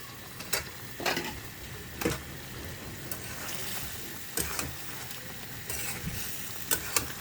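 Eggs frying with green chilies in a pan for an egg roast: a soft, steady sizzle fills the background, with intermittent sharper bursts and occasional scrapes or clinks, no one speaking.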